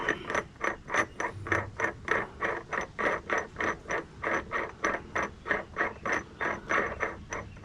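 VEVOR 5-ton electric hydraulic floor jack raises a car, its mechanism pulsing in a steady rhythmic whir-clunk of about three beats per second, close and moderately loud.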